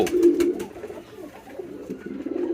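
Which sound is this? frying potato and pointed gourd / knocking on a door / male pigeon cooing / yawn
male pigeon cooing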